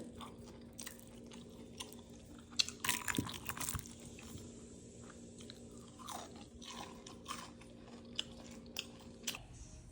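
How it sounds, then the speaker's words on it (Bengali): Crisp fried pitha eaten with beef and mutton curry is chewed close up, soft crunching and biting sounds recurring over a faint steady hum, with a louder burst of crunches midway. "এখন আমি মাংস দিয়ে খাচ্ছি, খুবই মজা, একদম অনেক ক্রিস্পি হয়েছে।"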